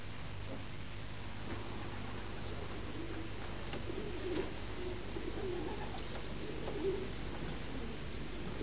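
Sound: racing pigeons cooing in the loft

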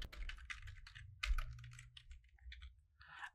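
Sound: typing a password on a computer keyboard

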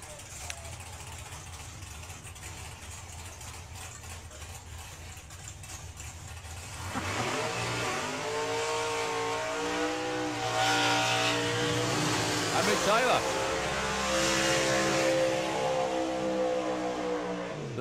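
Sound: drag racing fuel cars launching, Banshee Racing Outlaw Anglia

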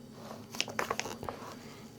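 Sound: biting and chewing spicy green onion kimchi

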